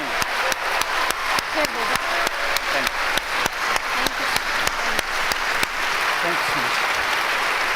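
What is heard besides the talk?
audience applause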